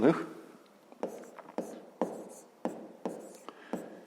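Handwriting a subtraction problem for a fifth-grade maths exercise, with pen strokes tapping and scratching on paper in short bursts about every half second, close and fairly quiet.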